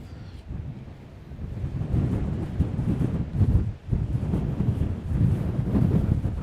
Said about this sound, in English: the wind is a bit too strong